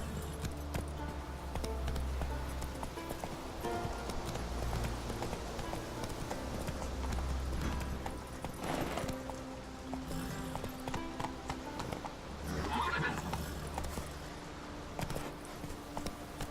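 Roach the horse in The Witcher 3 video game, with steady rhythmic hoofbeats running beneath a continuous low game soundscape and a brief higher cry near the end.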